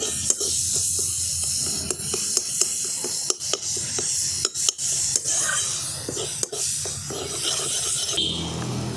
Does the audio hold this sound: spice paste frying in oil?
yes